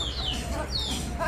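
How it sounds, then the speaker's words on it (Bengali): Chickens feeding at a home among pigeons and other birds give short, close clucks and rising chirp-like calls over a low, rough background, with brief soft bird sounds scattered through. "আবার সাথে মুরগি এসে খাচ্ছে।"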